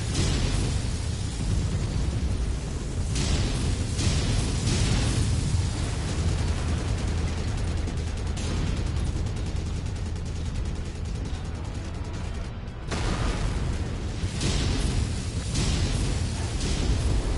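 Meteor impacts and explosions in the mech combat game MechWarrior 5: Mercenaries, a dense, continuous roar of booming blasts with a few heavier thumps and one brief dropout near the end.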